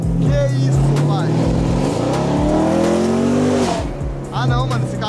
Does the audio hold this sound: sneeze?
no